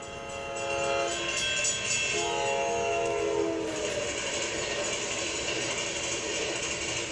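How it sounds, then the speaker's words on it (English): A train rolls past with a loud mechanical clatter and a sustained horn chord whose pitch drops as it goes by, close and continuous, with no voices. "Okay, so that's a train"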